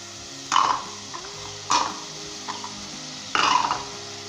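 A spoon stirs chickpea curry mixed with kewra water in a pot, giving three distinct scraping, sloshing strokes spaced about a second apart, close and fairly loud over a quiet background.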